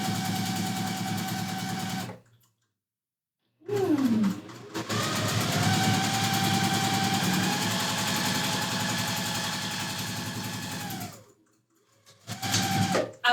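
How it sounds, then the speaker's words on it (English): A sewing machine stitches quilt blocks in long, steady whirring runs, stopping briefly in between and starting again with a short burst near the end. "I would talk more as I'm sewing, but I don't know if you can hear me over the machine."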